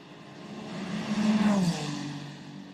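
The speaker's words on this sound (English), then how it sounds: "Let's have a listen in to Ryo Hirakawa's number 8 Toyota." Number 8 Toyota Le Mans prototype race car on wet track, engine note swelling and rising as it drives past at a distance, then fading, no voices.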